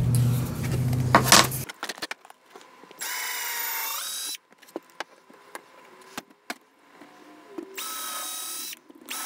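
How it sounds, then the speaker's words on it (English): Short bursts of a high-pitched power drill whining on and off while drilling pilot holes for a Garmin Striker 4 Plus rail mount, with clicks and handling noises between runs and a clattering rattle at the start. "I'm going to drill some pilot holes."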